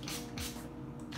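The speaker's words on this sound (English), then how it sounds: "Lastly, Mario Badescu Skincare Facial Spray." Mario Badescu facial spray mists out in three quick close hissing bursts, each short and airy, heard alone.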